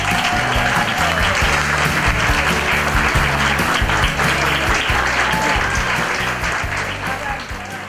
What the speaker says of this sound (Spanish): Un fuerte aplauso para Néstor Palmetti.